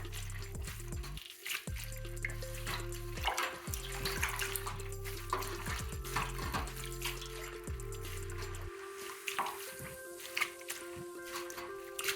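Water with a baking soda mixture sloshes and gurgles as it is pressed through a natural sea sponge in a basin, a steady close wet churning with intermittent low squishing pulses.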